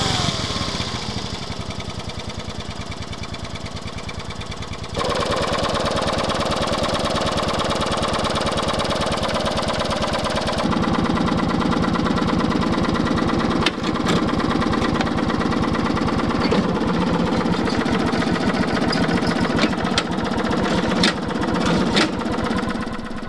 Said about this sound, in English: The engine runs, but even after 20 minutes of running, it is still burning oil